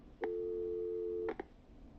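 A telephone line tone in Killer Frequency ends a call with a single steady beep held about a second, then a brief second blip, set against a quiet background.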